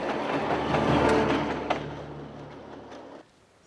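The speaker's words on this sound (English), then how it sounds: "This was to be the last train to run on the Rotorua line." The last train to run on the Rotorua line rumbles past with a steady roar and faint rail clatter, loud at first and gradually fading before cutting off near the end.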